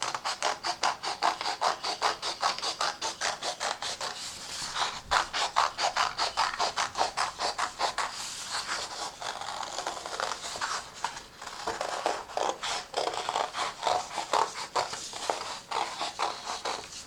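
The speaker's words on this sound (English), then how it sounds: "this letter using my scissors" Scissors snipping through paper to cut out a letter C for a name sculpture craft, a steady run of quick, close scratchy cuts repeating for the whole stretch with no talking.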